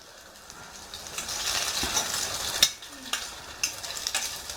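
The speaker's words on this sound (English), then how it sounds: "Put it into your butter. Then put it into your frying pan." Bread soaked for French toast sizzles in butter in a frying pan, a close, steady hiss with a few sharp crackles and clinks from the pan.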